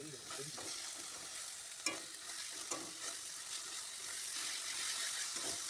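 Ginger-garlic paste sizzles in a pan with melted tomato for a spicy chicken curry, a soft, steady frying hiss with occasional scraping stirs, quiet and close, with no talking.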